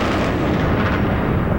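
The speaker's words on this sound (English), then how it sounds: "Multiple explosions thundered." Bombing during the Iraq War sends out a continuous, dense roar of explosions and artillery fire that rumbles heavily without a break, loud and saturated throughout.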